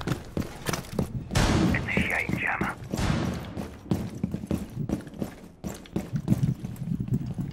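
Rapid bursts of gunfire from Rainbow Six Siege, with a long stretch of sustained shooting followed by scattered single shots and thuds. The shots are close and loud, with players speaking quietly underneath.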